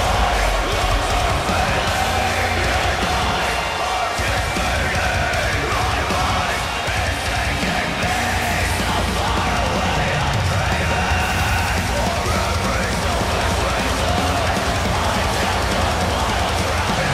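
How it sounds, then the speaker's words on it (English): A Raleigh wrestling crowd cheers and yells in a loud, sustained roar of appreciation after a one-on-one match, dense and steady throughout. "listen to this Raleigh crowd show their appreciation for such a great match"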